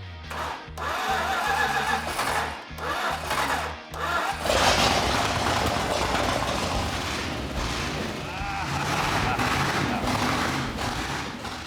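An engine runs with a steady, rough mechanical drone, fairly loud and close, after a few seconds of choppy sputtering at the start.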